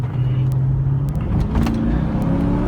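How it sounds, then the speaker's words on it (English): A 2001 Mercedes-Benz SL500 roadster's 5-liter V8 rumbles steadily up close, a deep loud drone with faint clicks and knocks over it. "there you see that big 5-liter V8, instant torque, lovely horsepower"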